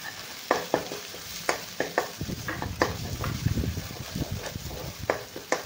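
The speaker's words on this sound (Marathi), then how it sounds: "मसाला चांगला परतून घेऊया." Spice masala of homemade red chili powder and turmeric being sautéed and stirred in a pan for egg curry, steady close sizzling under repeated sharp scrapes and clinks of a spoon against the pan, with no talking.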